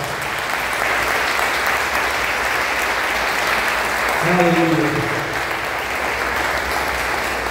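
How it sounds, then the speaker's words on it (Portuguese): A church congregation applauds loudly and steadily, a dense continuous wash of clapping throughout, with a single voice briefly calling out partway through. "Vamos aplaudir a Jesus de forte."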